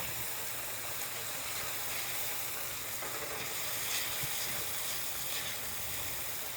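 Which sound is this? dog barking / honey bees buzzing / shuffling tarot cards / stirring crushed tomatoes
stirring crushed tomatoes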